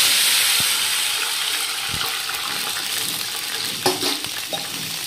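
Water poured into a hot pan of frying mustard seeds and spices sets off a loud, continuous sizzle and bubbling hiss, with a few sharp clatters of stirring throughout.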